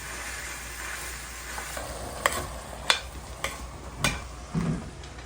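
Ground meat being broken up and browned in a pan for cheeseburger soup: a low, steady sizzle punctuated by five sharp spatula scrapes and knocks against the pan, close up, with no talking.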